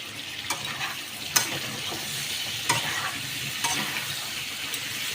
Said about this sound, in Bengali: আমার আলু পটলের তরকারিটা ভাজা হচ্ছে